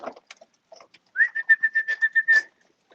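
Pigeons in a pigeon loft at evening feeding time give a run of soft repeated whistling calls and coos, close by and alone, with a few faint scattered chirps before it.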